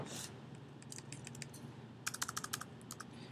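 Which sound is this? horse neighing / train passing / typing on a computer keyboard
typing on a computer keyboard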